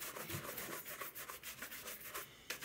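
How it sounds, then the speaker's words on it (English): Horsehair brush buffing polished leather shoes during a shoe shine, a steady run of quick, close brushing strokes with a soft rhythmic swish, alone and fairly quiet. "A horsehair brush makes a big difference."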